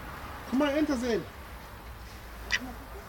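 A single short, nasal quack from a drake sounds close by, followed by a brief faint squeak against quiet background noise.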